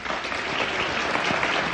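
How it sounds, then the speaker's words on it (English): A cinema audience at a screening of Sunrise applauds in a short, dense burst of clapping that fills the room evenly without any voices. "a quick show of applause."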